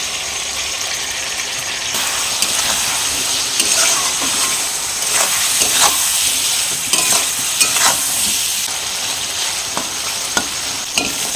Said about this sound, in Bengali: মিডিয়াম ফ্লেমে মশলাগুলো দিয়ে আমি 2-3 মিনিট কষিয়ে নিয়েছি।